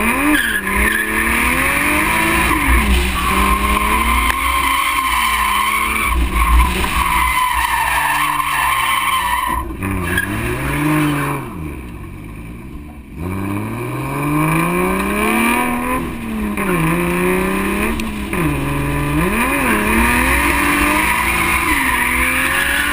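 A 1989 Toyota Supra drifting, its tires skidding and squealing loudly and continuously while the engine revs rise and fall, close and sustained throughout with brief dips in intensity.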